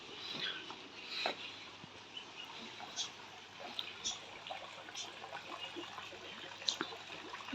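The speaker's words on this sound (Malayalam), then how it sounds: "ഫുൾ ഡേ ഇങ്ങനെ ചാറ്റൽ മഴ, നമ്മുടെ നാട്ടിൽ മഴ പെയ്യുന്ന പോലെ ഇങ്ങനെ പെയ്തുകൊണ്ടിരിക്കുക" Light drizzle falls on a pond with soft, scattered drips and faint trickling, a quiet, irregular patter over a low, steady background.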